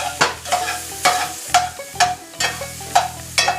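Sausage frying and being stirred in a pan for hillbilly hash, with repeated scraping strokes against the pan bottom over a steady sizzle, close and fairly loud, about eight strokes in even rhythm.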